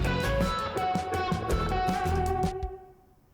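Electric guitar playing a short run of chords and notes through a Space Designer reverb panned to the right, the reverb tail ringing on briefly after the last strike, clean and solo with no talking.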